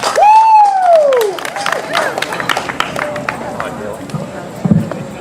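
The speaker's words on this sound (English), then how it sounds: "Let's give them a big round of applause." A crowd at a high school harvest festival speech contest breaks into cheering and applause, loud at first and then settling into scattered clapping and murmuring, with a whistle-like sweep at the start.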